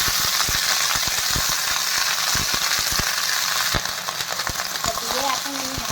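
Green beans fry and sizzle in a pan, with a strong, continuous crackling hiss as they are stirred. Sharp, irregular taps of the utensil against the pan cut through, and a brief voice is heard near the end.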